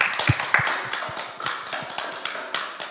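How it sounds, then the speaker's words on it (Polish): A small press-conference audience claps, a fairly thin patter of individual hands at moderate volume that holds steady and then fades slightly, with no talking over it. "A czy państwa mogę poprosić o ogromne brawa?"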